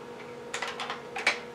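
Keys clatter on an IBM PC/XT keyboard while a BASIC program is entered, a short burst of several quick, crisp clicks after a quiet start, close by and clear.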